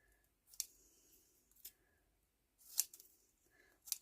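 Scissors snip around a small paper label in a handful of short, crisp cuts spread out in time, close and fairly quiet, with no voices.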